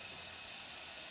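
Air hissing weakly and steadily through a sticking air valve on a machine in a shop, a soft, thin, continuous rush with no voices.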